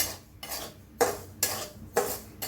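Semolina dry-roasts in a pan while a metal spoon stirs it, giving repeated scraping strokes in a steady rhythm, close and clear with no talking.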